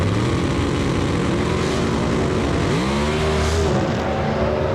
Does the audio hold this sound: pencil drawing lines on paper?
no